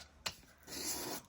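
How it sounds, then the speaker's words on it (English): Plain white paper tabs edged with washi tape being sanded for a junk journal: a quick scrape followed by a short, soft rasping rub, close and quiet. "which I am just going to give a quick sand"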